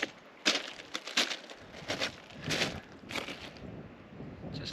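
Steady wind gusting across an open lava field on a Maui hike, a broad rushing roar that rises and falls in bursts, with faint crunching that may be footsteps on rock.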